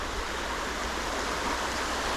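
Creek water flows in a steady, broadband rush close by, with no break and no voices, like a shallow stream running over rocks.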